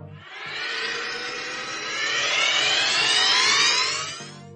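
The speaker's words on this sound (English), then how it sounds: "It's hardly possible to believe that this is what a car engine might sound like" A car engine with an eerie, spaceship-like tone gives off a sustained whining roar of many rising, gliding tones, building and holding loud before cutting off abruptly.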